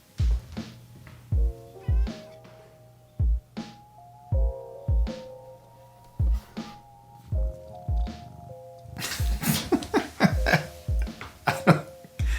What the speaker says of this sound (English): here's 10 seconds of a cat sitting in a box